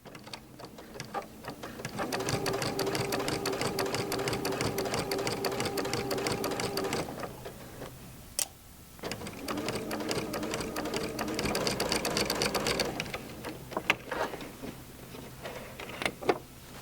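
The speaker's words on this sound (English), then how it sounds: "make sure that you carefully stitch through everything" Sewing machine stitching two quilt blocks together, a steady rapid mechanical whir running for several seconds, pausing briefly, then resuming for another run, with a few faint clicks and handling noises between.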